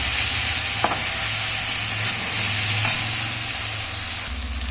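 Spiced masala for a fish curry sizzles steadily in a pan while being stirred, a continuous loud frying hiss broken by occasional scrapes of the spoon.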